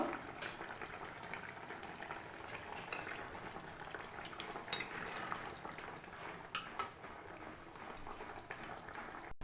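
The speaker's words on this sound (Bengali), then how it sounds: "মাছ দিয়ে দিয়েছি, ভালো করে ফুটিয়ে নেব।" Bhola fish curry simmering in a pot, a steady close bubbling and sizzling with occasional clinks of a utensil against the pan, no talk.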